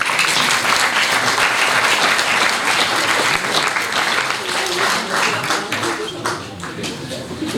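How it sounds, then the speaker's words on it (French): Loud, sustained audience applause fills a sports-merit award reception in a hall at St-Sever, dense steady clapping from a large crowd that tapers slightly toward the end. "On peut l'applaudir."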